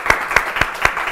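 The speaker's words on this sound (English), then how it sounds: "So give her a big round of applause as well." Audience applause in a hotel room during a live show, a short burst of even, rhythmic clapping at moderate loudness with no voices over it.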